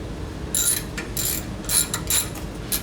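A brake caliper bolt on a BMW E83 X3 is tightened with a 6mm Allen key, heard close up as several short bursts of metallic ratcheting clicks with brief pauses between them.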